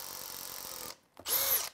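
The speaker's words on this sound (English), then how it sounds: "I'm going to drill the holes." A power drill bores holes into wood while installing extra ballast weight: a short whining run, a brief pause, then a louder high-pitched spin-up, close and with no talking.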